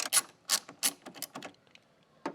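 A ratchet on a 10 mm socket removes headlight bolts on a Chevrolet Cobalt, giving a few quick bursts of sharp metallic clicking, close and fairly quiet, with short pauses between strokes.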